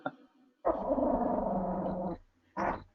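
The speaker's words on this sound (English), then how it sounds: "She's a real growler." A dog growls close up in a long, low, sustained rumble lasting over a second, followed by a shorter second growl after a brief pause, with a quiet room around it.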